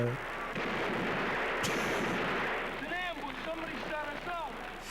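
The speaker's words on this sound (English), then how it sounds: "they just bring out automatic weapons and kill everybody" Automatic weapons fire in a film soundtrack from a 1975 exploitation movie, a dense continuous roar of loud gunfire and explosions with shouting voices breaking through toward the end.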